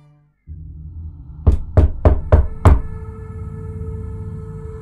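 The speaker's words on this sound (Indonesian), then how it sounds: "tiba-tiba ada suara yang mengetok pintu kamar saya" Five quick, firm knocks land on a bedroom door at night, evenly spaced and close, over a steady low hum that continues after the knocking stops.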